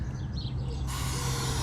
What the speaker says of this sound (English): Just spray the activator on there.